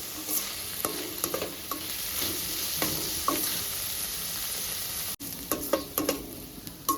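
Mutton liver frying with fenugreek leaves in a pan, a steady sizzle broken by repeated scraping stirs and spoon clinks, with one sharp knock partway through.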